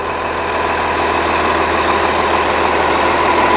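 Cummins ISC diesel in the rear of a 2009 Blue Bird All American pusher passenger bus, idling with a steady, loud low rumble and even mechanical drone, nearby and unbroken, with no speech.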